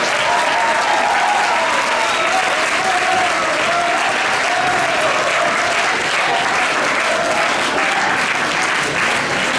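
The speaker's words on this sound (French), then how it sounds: "Applaudissez-vous s'il vous plaît." Audience at a Miss Picardie pageant show applauding, dense sustained clapping from a large crowd, loud and even throughout without pause.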